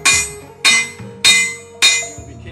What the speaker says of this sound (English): when you're hitting with the hammer, you leave ripples in it.